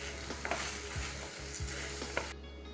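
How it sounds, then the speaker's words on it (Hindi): Butter chicken masala with cream and butter is stirred in a pan, giving a continuous sizzle with scraping spoon strokes and a low hum underneath, then an abrupt cutoff at the end. "अब इसमें हम क्रीम बटर ऐड करेंगे और उसको बहुत ही अच्छे तरीके से मिक्स करेंगे।"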